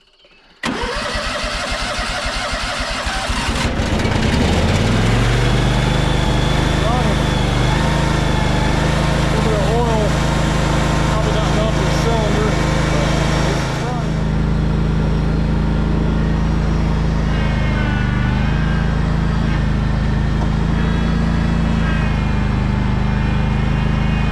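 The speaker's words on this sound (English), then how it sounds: "let's give it a shot and see if it turns over" A Kubota zero-turn mower, recovered after going into a pond, cranks briefly and then starts, settling into a loud, steady close-up engine run with a slight dip partway through.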